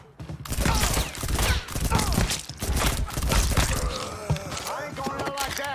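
Gunfire amid chaotic combat in the video game Mafia 3, dense bursts of shots and impacts mixed with shouted dialogue and cracking debris, loud and close throughout.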